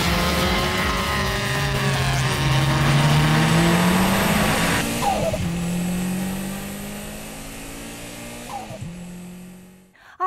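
A race car engine revs and accelerates steadily, its pitch rising and falling in long sweeps, loud and close throughout with no talk, fading away near the end.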